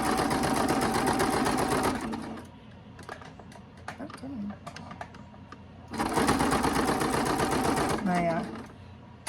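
A sewing machine stitches a potholder in two loud, fast bursts of rapid needle clatter separated by a pause filled with handling clicks and rustles, close to the microphone.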